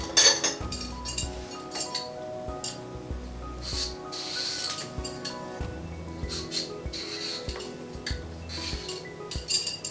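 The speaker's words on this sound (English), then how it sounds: "it's quite fiddly to peel and chop the butternut squash, I'm actually going to do that now" A hand peeler scrapes along a butternut squash in a home kitchen, with repeated short strokes and light clinks close by and no voices.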